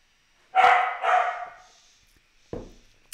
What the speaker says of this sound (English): That's a corgi, if you're wondering. He barks a lot.